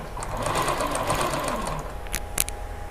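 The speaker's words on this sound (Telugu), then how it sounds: "ఇప్పుడు దీన్ని ఇలా పట్టుకొని స్టిచ్చింగ్ అనేది చేసుకోవాలి." A zigzag sewing machine doing pico stitching along the edge of a saree, running in a steady, loud, close whir for nearly two seconds, then stopping with a few short clicks and taps.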